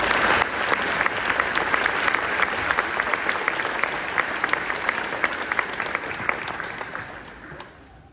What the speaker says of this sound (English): I'd like to have a round of applause for all our teachers and staff members who are here today